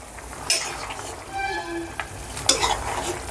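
A pot of water with potatoes for poori curry bubbles steadily on the stove, a busy simmering hiss punctuated by a few sharp utensil clinks against the pot.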